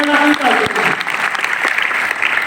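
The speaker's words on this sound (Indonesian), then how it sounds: "Tepuk tangan yang mulia kita." Church congregation clapping together during a service, a loud close burst of applause with voices and cheers mixed into it throughout.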